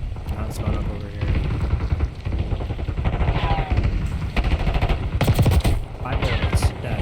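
Dense automatic gunfire in the Call of Duty video game, bursts of rapid shots layered with explosions and battle noise, loud and continuous, with a voice talking over it.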